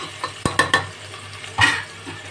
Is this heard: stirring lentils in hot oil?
yes